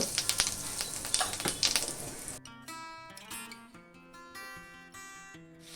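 Cumin and asafoetida, with mustard seeds, sizzle in hot oil as a tempering for a Marathi capsicum bhaji: a loud, steady hiss for about two seconds before music takes over.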